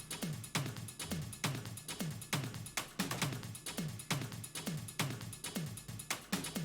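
A produced drum track loops at a steady groove, with tight kicks and crisp snappy hits landing in regular rhythm, chopped percussion fill and tom fills woven in, close and loud with no voices.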